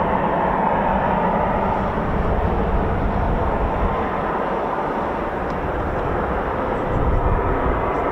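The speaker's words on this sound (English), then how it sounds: "EJ200 engines by the sound of it." Eurofighter Typhoon FGR4 with EJ200 jet engines starting up at an RAF QRA station, a steady, loud broadband roar and whine that holds constant throughout without a break.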